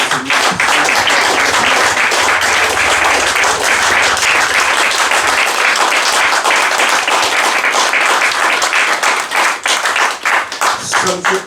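A church congregation at an ordination service claps and applauds to acclaim the Lord, loud and sustained, with dense rapid clapping that thins toward the end.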